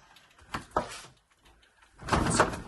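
An old wooden church door in an ancient timber church in Bucknell, England, swings open with a couple of short creaks and knocks, then a louder, broader scraping rumble of the heavy wood near the end.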